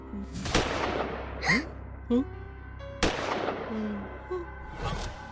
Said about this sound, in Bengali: ওই গুলির শব্দ।